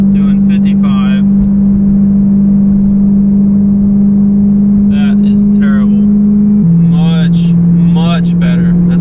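BMW M3 cruising in 5th gear at 3,000 RPM, about 55 mph, with a steady low exhaust drone that holds one pitch throughout, heard from inside the car with brief talk over it.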